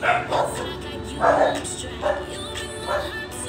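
A dog barks in four or five evenly spaced bursts against a steady, noisy background.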